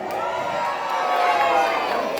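Children's voices rise in a broad cheer from a crowd at an outdoor band show, a sustained swell of shouting that peaks midway and holds to the end.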